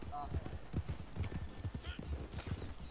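Horse hooves clip-clop in a steady rhythm across terrain in Red Dead Redemption II, moderately close and mixed with game ambience and someone talking over them.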